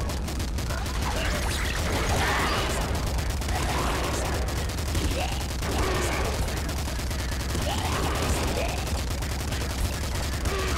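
Dense gunfire and bullet sounds from the shooter game Nuclear Throne rattle without pause, rapid overlapping shots with bursts and small blasts, loud and constant, with a voice briefly speaking underneath.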